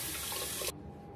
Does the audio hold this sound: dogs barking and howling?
no